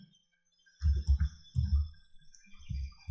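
Keys clatter on a computer keyboard in short irregular bursts of close, soft clicks with brief pauses between them and no talking.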